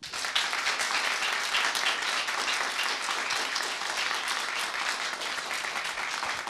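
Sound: audience applause

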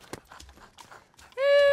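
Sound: horse in DayZ video game

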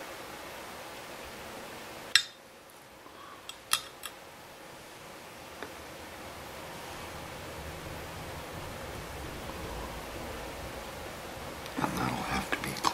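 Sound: nippers cutting wire for model seat harnesses

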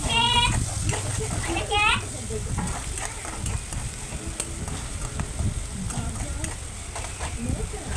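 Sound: coriander sizzling in tempering oil

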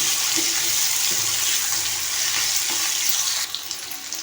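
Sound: sautéing for chicken gravy in a pan

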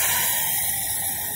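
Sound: pouring petroleum ether into a filter

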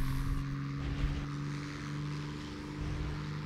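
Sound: F2 propeller plane engine in a video game

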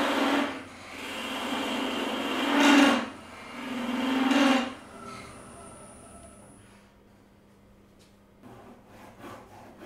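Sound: sawing wood on a stopped lathe

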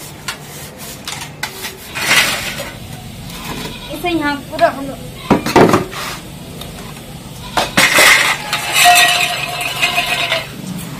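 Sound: washing dishes and utensils

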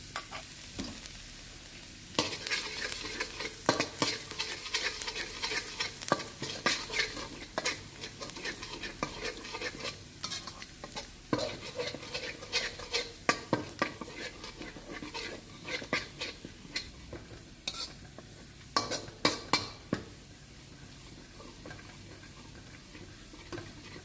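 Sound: stir-frying chopped garlic in oil

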